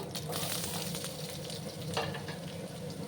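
Potatoes fry in hot oil with black mustard seeds, a dense, continuous close sizzle with brief crackles throughout and no talking.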